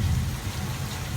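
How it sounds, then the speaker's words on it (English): Artificial rain effect on the Universal Studios Hollywood studio tour, a loud, steady hiss of falling water close by with no talking. "that's how we can create rain here in Hollywood"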